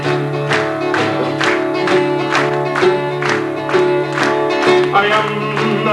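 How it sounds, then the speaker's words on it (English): A live concert audience claps steadily in time over sustained accordion-like music, the rhythmic claps clear and fairly loud throughout. "Everybody clap those hands."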